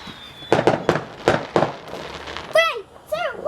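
Several fireworks bursting at bonfire night, a run of sharp pops and crackles in quick succession followed by rising whistling shells, fairly close and loud, with excited voices between.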